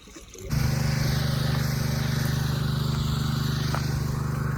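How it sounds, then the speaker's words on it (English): A portable generator at an off-grid homestead starts up after a brief quiet moment, then settles into a steady, loud, low engine drone that continues without a break. "Just turned the generator back on so that we can fill the water tanks up top"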